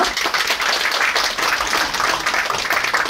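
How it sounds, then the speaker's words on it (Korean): Audience applause at a humanities concert as three musicians are welcomed back onto the stage, a steady dense wash of clapping that holds loud and continuous throughout. "박수로 환영해주세요"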